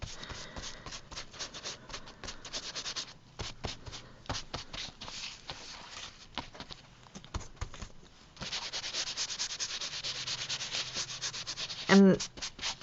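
A baby wipe rubs gesso over an art journal page in quick, scratchy back-and-forth strokes, close and fairly loud, pausing briefly before a denser stretch of rubbing.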